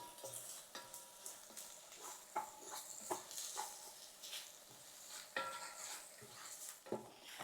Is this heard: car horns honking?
no